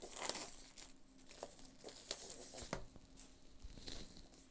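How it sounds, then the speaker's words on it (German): A 4K film steelbook is unwrapped by hand, giving soft crinkling and tearing of plastic wrap in quick irregular bursts, quiet and close. "Wir packen das Steelbook aus und gucken wir uns das Ganze mal an."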